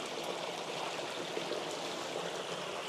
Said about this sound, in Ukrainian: Мега атмосферно, тільки на мене з усюди капає вода.